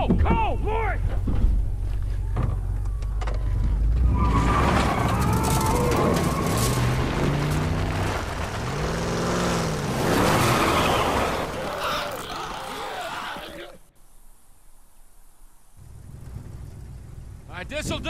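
A car engine runs in The Last of Us video game, a loud continuous rumble with thumps and shifting tones, overlaid by game music, dropping out briefly near the end.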